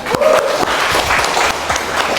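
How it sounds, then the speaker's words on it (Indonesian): A burst of clapping and cheering from a small classroom crowd, lively and close, with a few voices mixed in. "Tepuk tangan buat kita semua ya."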